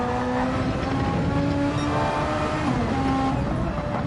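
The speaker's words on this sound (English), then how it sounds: "Back on the overtake button to accelerate out of the corner." A Super Formula race car accelerating out of a corner at the Nürburgring, a steady loud engine whine with rising harmonic tones held throughout, no talk.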